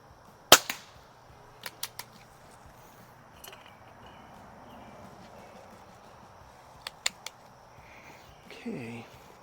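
A Crosman 1701P air pistol fires at a target 50 feet away outdoors, giving sharp isolated cracks: one louder shot, then several quieter snaps spaced apart, with faint background noise between them.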